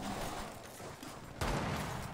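Gunfire in the Copa Game Brasil shooter match, a burst of shots with a sharp, louder blast near the end, over a dense, steady game soundscape with no voices.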